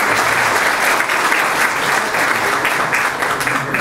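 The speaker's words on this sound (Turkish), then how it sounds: "sizler için kocaman bir alkış" An indoor audience at Avrasya Hospital's Medicine Day celebration gives loud, sustained applause for the doctors, a dense, even wash of many hands clapping close by with no pause.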